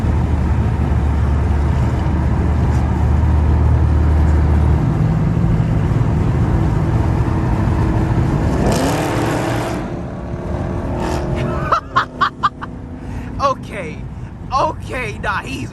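A Dodge Charger Scat Pack engine roars loudly as the car accelerates hard into a tunnel at night, the drone rising in pitch and echoing, with wind rush and people talking over it.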